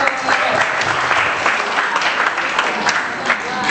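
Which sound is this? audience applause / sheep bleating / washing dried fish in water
audience applause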